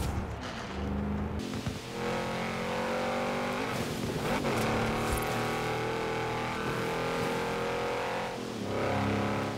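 An Audi RS7 is driven in the Forza racing game on a winter course, its engine holding a steady, loud, droning tone with slight rises in revs and no talk over it.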